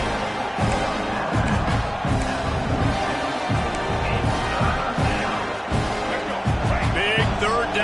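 A roaring stadium crowd in a football video game keeps up a loud, dense wall of cheering with thumps and shouts throughout, while people talk over it.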